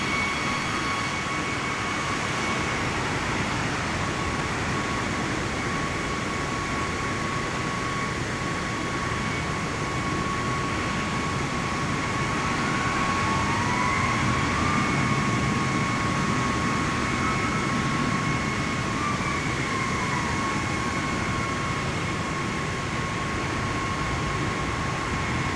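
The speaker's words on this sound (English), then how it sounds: "And there's a plane right behind me." Jet airliner passing close behind in Microsoft Flight Simulator 2024, a steady loud engine roar with a whining tone that swells and slides in pitch midway, continuous and alone without talk.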